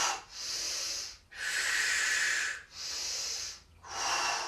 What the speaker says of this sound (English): Let's give 2 or 3 breaths on this side.